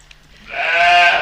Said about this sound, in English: Well, this is Dolly. A sheep, but one sheep which has managed to change our understanding of how life begins forever.